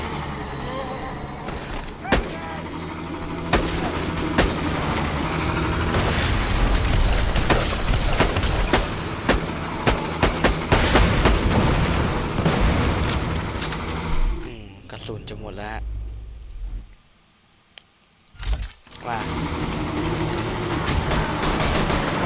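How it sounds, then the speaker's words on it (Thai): Small darts in Borderlands 2 stick to targets and explode, heard as a dense run of booms and gunfire-like blasts under ongoing talk, briefly dropping away near the end before the action resumes. "เราจะเห็นเป็นลูกดอกเล็ก ๆ แล้วก็ มันพุ่งไปติดนะครับ แล้วมันก็จะระเบิด"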